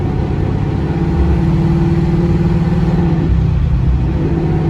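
A car with a worn axle drives under light throttle, giving a steady, loud engine and drivetrain rumble with a droning tone up close.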